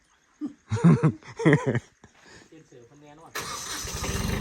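A Kubota B2140SN-B compact tractor engine cranks and catches, then settles into a steady diesel running clatter, following a stretch of people talking nearby.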